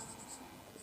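A brief stretch of writing on a board during a basic maths lesson, with a faint scratchy stroking sound under steady room noise.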